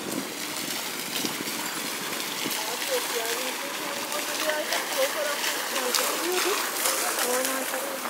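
Steady splashing of a public fountain in Çeşme, Turkey, a continuous outdoor wash of falling water heard from nearby, with people talking over it.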